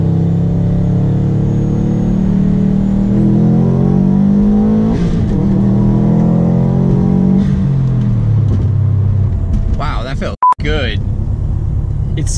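A 2017 Subaru WRX STI, protuned on a dyno, accelerates hard in second gear with the air conditioning off, its loud engine note climbing steadily in pitch through the rev range before a brief gap, while someone talks over it.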